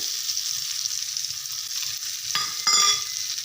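Green chillies fry with cumin powder and salt in a pan, a steady soft sizzle running throughout, with a couple of scraping stirs near the end.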